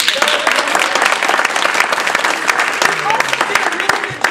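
An audience at a Toastmasters spring table topics contest applauds in a dense, steady burst of clapping that fills the room from start to finish, with faint voices mixed in.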